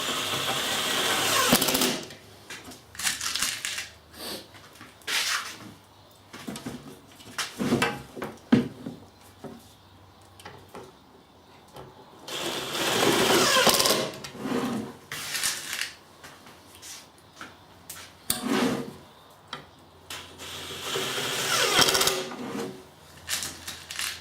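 A power screwdriver whirs in repeated bursts of a few seconds each, driving screws into a set of wooden drawers in a workshop, with clunks and handling noise between runs and no talking.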